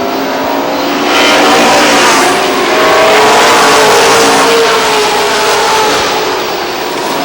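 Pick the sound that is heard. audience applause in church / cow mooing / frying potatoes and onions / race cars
race cars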